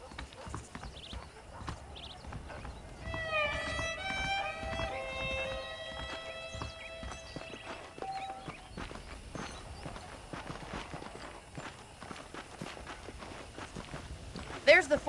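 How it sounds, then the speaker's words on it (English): Horses clip-clopping in the video game Red Dead Redemption, steady hoof steps on packed ground under a voice and a short whistled or sung tune, with faint ambient game sounds around them. "The horses are saddled up over here."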